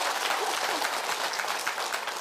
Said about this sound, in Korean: 제 덕분에 박수 치신 거예요?